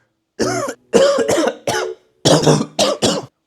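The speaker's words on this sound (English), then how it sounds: "the cough is still here" A close, loud run of about eight harsh coughs in short clusters, separated by brief silent pauses.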